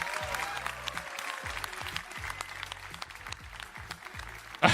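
An audience at a Ubisoft Forward game showcase claps in faint, scattered, steady applause across the whole stretch, with a short louder burst at the end.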